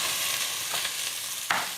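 Sliced mushrooms sautéing in a pan for a Turkish fish soup, giving a steady close sizzle with a brief louder burst of frying near the end, no voices.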